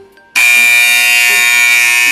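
A loud, steady electronic alarm kicks in abruptly and holds a continuous high-pitched tone, marking the end of a power switch timer for a Bible games setup.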